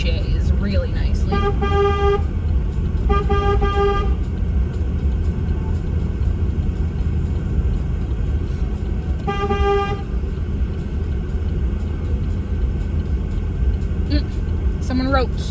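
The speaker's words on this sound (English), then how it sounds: "I love how loud my horn sounds when I'm, like, in between a bunch of buildings." A truck horn at a Slow Roll Saturday in Saskatoon honks loudly three times, its echo ringing between city buildings over a steady, heavy engine and traffic rumble.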